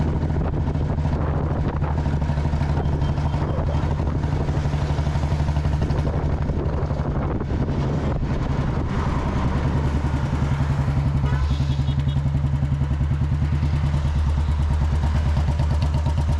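A Royal Enfield Bullet with a cast iron engine runs steadily at idle with a deep, even thump, loud and close, accompanied by some wind noise and light clatter.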